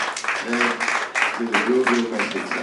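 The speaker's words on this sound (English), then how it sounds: "Let's give him a round of applause." Audience applause in a conference hall for a speaker at a climate crisis and business continuity event, steady clapping with a voice talking over it throughout.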